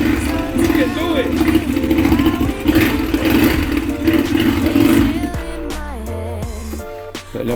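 A 400 sport quad four-wheeler engine revs steadily and loudly for several seconds with a droning mid-pitched tone, then shifts into uneven bursts as the rider changes throttle. Voices can be heard over it.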